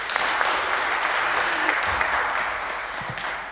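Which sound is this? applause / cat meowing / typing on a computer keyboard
applause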